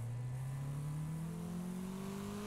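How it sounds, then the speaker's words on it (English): In the racing game Wreckfest, a car engine drones steadily while its pitch climbs as it revs higher, a continuous smooth whine at moderate level with no talk. "Like the engine was revving higher."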